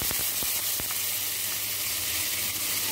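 Onions tipped into hot oil with tempered cumin seeds hiss in a steady, close sizzle, with a few sharp crackles near the start and no talking.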